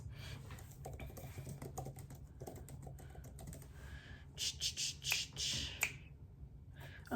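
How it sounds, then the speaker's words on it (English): Fingers tap rapidly on an iPad touchscreen keyboard, a quiet run of small clicks over a low room hum, with a few louder rustles near the end. "I typed in Only for the Week on my iPad"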